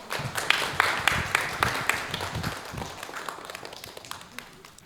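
A modest round of applause comes from an audience at a public forum about a city art museum. The clapping is scattered and fairly close, builds briefly, then tapers off over about four seconds.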